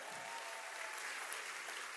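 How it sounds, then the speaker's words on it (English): Quiet, steady applause from an audience at a women-in-leadership event, an even spread of many hands clapping heard from some distance. "Give him a round of applause,"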